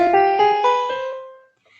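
A Scratch music program plays a short run of piano notes that step upward in pitch one after another, bright and close, then fades into silence.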